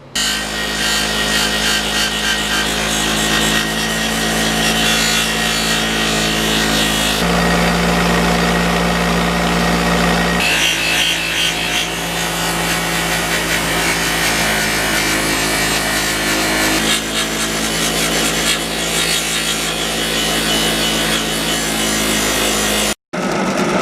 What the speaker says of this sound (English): I'll take the little Dremel tool with a little buffing pad.